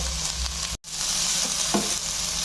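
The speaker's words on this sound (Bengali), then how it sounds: "এবার আমি এতে আদা বাটা রসুন বাটা দিয়ে দিলাম এটাও আমি দু মিনিট কষাবো" Onion frying with ginger and garlic paste in a pan, a steady close sizzle with light stirring and a brief dropout midway.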